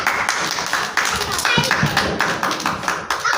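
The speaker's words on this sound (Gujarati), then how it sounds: "તાળી પાડો." A run of quick, steady hand claps from a group, repeated in short bursts with a voice speaking between them.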